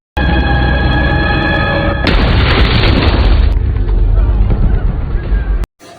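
A suicide bomb explodes in a film: a sudden deep boom swells into a long roaring, rumbling blast that dies down and then cuts off abruptly, loud and close.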